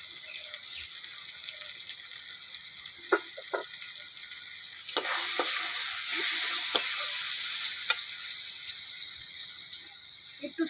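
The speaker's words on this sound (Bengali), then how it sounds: "মশলা ভালো করে কষে নেব" Spice paste with turmeric, green chilies and salt fries in a pan for crab curry, a faint steady sizzle with occasional clinks and stirring scrapes, louder bursts midway, no talk.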